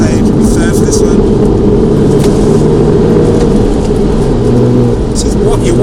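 A manual MK7 VW Golf GTI Clubsport S with an engine problem drives on the road, its engine and road noise forming a loud, steady drone inside the cabin while a person talks over it.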